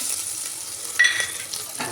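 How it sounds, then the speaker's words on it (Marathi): Ginger garlic paste frying with browned onion in a pan, a steady close sizzle with a brief sharper spatter and scraping stir partway through, no voices. "आता आपण याच्यामध्ये घालूया आलं लसणाची पेस्ट"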